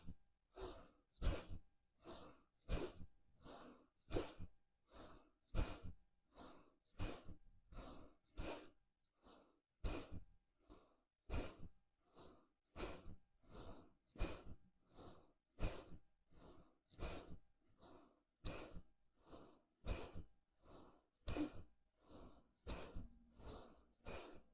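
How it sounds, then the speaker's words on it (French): Forceful rhythmic breaths during a gentle Kundalini yoga exercise, each sharp exhale a close, loud burst repeating steadily about once per second with no talking. "Faites des respirations puissantes."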